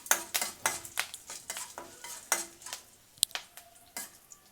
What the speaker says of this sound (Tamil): நல்லா இது நல்லா தாளிக்கட்டும்.